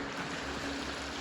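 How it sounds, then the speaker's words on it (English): Small waterfall in a woodland creek at a state forest, a steady, close rushing and trickling of water with constant broadband texture and no clear breaks. "Oh, look, we got a little waterfall thingy."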